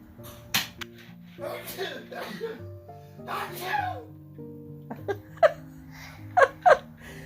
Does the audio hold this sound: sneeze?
yes